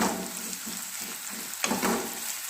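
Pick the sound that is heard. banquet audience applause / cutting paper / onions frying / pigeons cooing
onions frying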